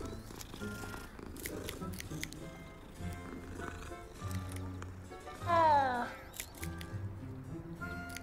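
A cat purrs as it is petted in the Hogwarts Legacy video game, a soft steady rumble under game music and ambience, with a brief higher cat call near the middle. A voice talks at times.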